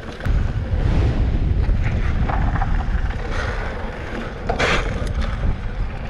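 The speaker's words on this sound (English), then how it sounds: "That wind just caught me at the apex of that jump. It almost pushed me over." Strong wind gusts buffet the microphone during a mountain bike jump at Angel Fire, a steady low roar of loud, continuous wind noise that swells and eases slightly throughout, with no talking.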